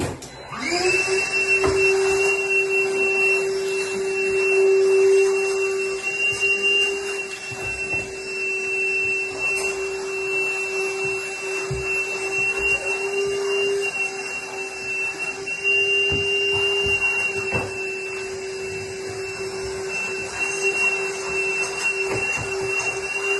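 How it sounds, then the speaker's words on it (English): A vacuum cleaner running steadily after a sink hole cutout, a loud sustained motor whine with a steady pitch and faint clatter of debris being sucked up, with no talking. "have another guy or have a vacuum like this with you."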